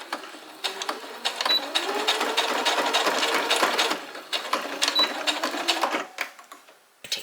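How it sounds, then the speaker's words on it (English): A sewing machine stitches lanyard fabric back and forth, its needle running in steady bursts for most of the span with short pauses between passes, close and clear with no talk. "now I'm going to sew about 1/2 inch up and go back and forth a couple times."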